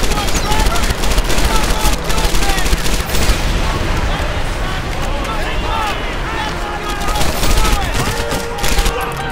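Heavy gunfire in the World War II shooter Medal of Honor Airborne, a dense fusillade of overlapping shots and battlefield noise, loud and continuous with some easing midway, while someone talks over it.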